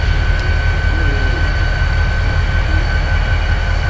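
An EMD two-stroke diesel locomotive in the RailWorks 2014 train game, on the DRRR3 line, drones loudly and steadily throughout, with a deep rumble and sustained humming tones and no voices.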